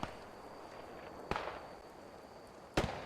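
Two sharp, loud gunshot cracks in a night battle in the World War II shooter Post Scriptum, each with a trailing echo, spaced about a second and a half apart over a steady hum of ambient noise.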